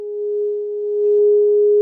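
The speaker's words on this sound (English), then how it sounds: "Going to just make a little sound with my singing bowl" A singing bowl rings with a steady, pure sustained tone, close and clear, holding without a break for the whole short moment.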